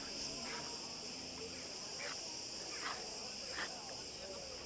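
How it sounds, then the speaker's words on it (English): Cicadas buzz loud and continuous at the ancient Minoan site of Knossos on Crete, a dense, steady outdoor drone with faint voices barely audible beneath it. "I love the loud sound of these cicadas."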